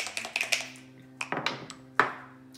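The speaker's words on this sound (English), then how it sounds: "that nice, really rich sound of the checkers hitting the beech wood" Backgammon checkers on a beech wood board: a quick run of sharp, light wooden taps and clacks, then a few more after a short pause, close and fairly quiet with no voices.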